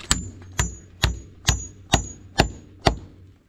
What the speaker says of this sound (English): So guys, I want to hammer here.